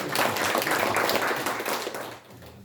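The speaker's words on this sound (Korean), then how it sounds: "가장 형이신 현광석 회장님께 다시 한번 큰 박수 부탁드립니다." Applause from an audience at a memorial society's commemorative event, a steady burst of clapping from a gathered crowd that tapers off near the end.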